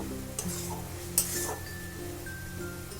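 Turmeric powder is stirred into a tomato-based egg curry masala in a pan, giving a few light scrapes and a faint utensil clink against a low sizzle, heard close and without speech.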